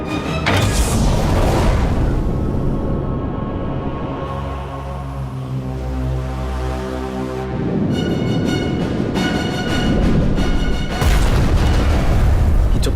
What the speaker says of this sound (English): Torpedoed it, and it was a fuel tanker, and there was a large explosion.